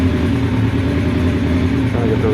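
A Honda Nighthawk motorcycle engine warming up after carburetor reassembly with rejetted carbs and no air cleaner piping, a close, loud, steady idle with an even low throb.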